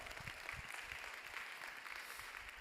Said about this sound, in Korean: 박수로 축복하고 격려하겠습니다